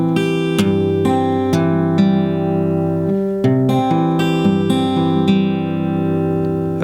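An acoustic guitar plays the alternate crisscross fingerpicking pattern at a slow pace, with evenly spaced plucked notes ringing over a steady bass, close and alone with no voices.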